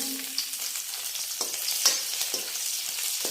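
Garlic dropped into hot oil for a makoh (black nightshade) sabzi sizzles steadily and close, with faint stirring scrapes and small pops scattered through; no voices.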